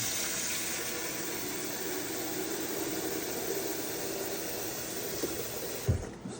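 Water runs steadily from a sink tap into the tank of an instant water heater, a continuous close rushing wash that holds for several seconds and then tapers off near the end, with no talking.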